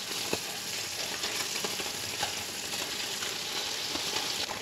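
Crappie fish fillets searing in a hot pan give a dense, steady sizzle scattered with sharp oil crackles and pops, close and constant throughout with no talking.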